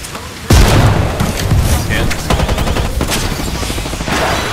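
Grenades exploding in a multiplayer shooter game: one heavy boom lands close and loud, followed by a dense rattle of gunfire and further blasts, with muffled voices underneath.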